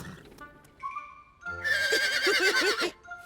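A horse lets out a loud, shaky whinny, preceded by a few softer snorts and short vocal sounds.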